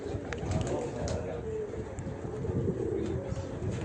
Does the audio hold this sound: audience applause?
no